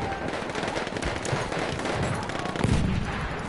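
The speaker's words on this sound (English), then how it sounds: "hear the guns going off, it's amazing" Gunfire in the Battlefield 1 Turning Tides Conquest expansion: a continuous dense barrage of overlapping shots and distant booms, loud and busy throughout with no clear pause.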